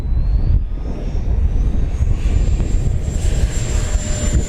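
FMS Viper Jet 70mm RC electric ducted-fan jet powering up, a loud, close, steady whooshing roar with a rising high whine throughout.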